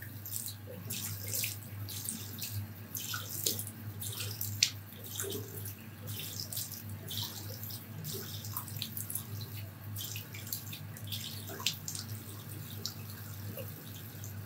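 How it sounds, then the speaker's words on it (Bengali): Water runs steadily from a tap into a sink while someone washes their face, a continuous soft splashing with small irregular drips and splatters, heard alone with no talking. "এখন আমার ফেসটা ধুয়ে ফেলবো"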